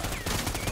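Gunfire in the video game Predator: Hunting Grounds, a short loud burst of rapid automatic shots with a whining tone above it.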